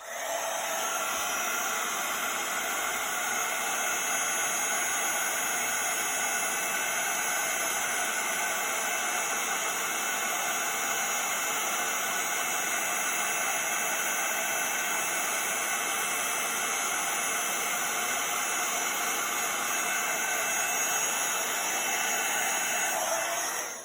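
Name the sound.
heat tool melting WOW embossing powder on a card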